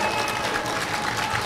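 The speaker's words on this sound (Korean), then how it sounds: "박수 부탁드리겠습니다" Audience applause for a politician at a Korean talk event, a dense steady wash of clapping filling the whole stretch with faint voices underneath.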